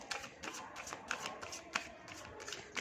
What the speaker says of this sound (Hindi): Okay, let me shuffle this.